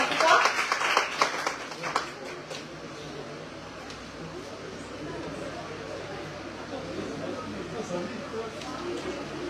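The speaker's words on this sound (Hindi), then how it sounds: "जोरदार तालियां उनके लिए।" Audience applause at a Hindi poetry recitation competition, greeting a college lecturer serving as judge; a loud burst of clapping at the start settles into a steady murmur of applause and crowd noise with voices mixed in.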